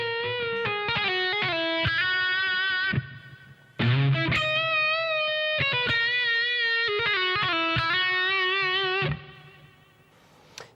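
Distorted electric guitar playing a slow lead phrase with string bends, slides and hammer-ons, notes ringing in sustained runs with a brief pause near the middle, heard alone with no voices.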